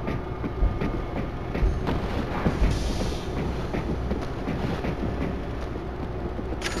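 A train rolls in World War Z on a New York level, a heavy rumbling clatter with rhythmic knocks and a brief metallic squeal, loud and continuous with no voices.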